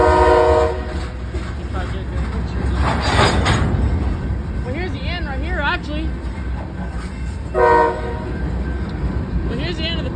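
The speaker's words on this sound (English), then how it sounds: "Well, here's the end of the first train." A freight train with GEVO locomotives passes at a crossing near Fosterville, Tennessee, rumbling and clacking loudly close by with horn blasts, while people talk over it.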